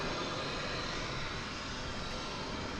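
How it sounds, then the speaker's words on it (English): Fixed-wing airliners take off on parallel runways at Dallas/Fort Worth International Airport early on a Sunday morning, heard as a steady, broad, distant engine roar that holds constant throughout with no talking. "there you see some parallel takeoffs over on the east side of the airport"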